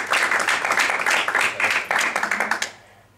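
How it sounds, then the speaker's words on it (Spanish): An audience at an academic talk applauds for a speaker, dense steady clapping held loud for about two and a half seconds before it tapers off quickly into near silence. "Muy bien, pues un aplauso para Miguel Ángel"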